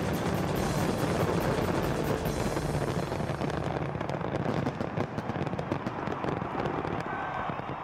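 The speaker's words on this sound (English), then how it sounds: "From point of launch up to the sky, pyrotechnics completely fill the scene with their grace and power." A fireworks show fills the air with a dense, continuous roar of launches and bursts: loud, overlapping crackles and booms with sharp pops scattered throughout.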